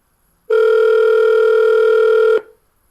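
A conference phone line opening gives a single loud, steady electronic tone that holds for about two seconds and then cuts off, with silence before and after.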